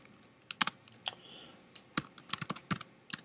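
Someone types on a computer keyboard, making quick irregular clicks and short bursts of keystrokes, fairly quiet and close, with no speech.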